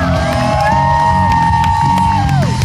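Crowd at a BMX stunt show by Team BTA at the 2013 State Fair of Texas cheering, whooping and shouting, loud and steady throughout, mixed with music and a sustained tonal sound over the noise.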